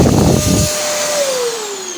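A Daewoo RC 3750G vacuum cleaner runs after a repair, a loud close motor whine with a rumbling airflow that quickly quiets, leaving a steady hum whose pitch slowly falls as it winds down.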